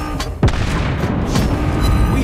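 Dive bomber bombs striking a target in World of Warships Blitz, the naval game with the Japanese Zuihō aircraft carrier: one sharp, heavy boom stands out above a rumbling battle background, with no talking.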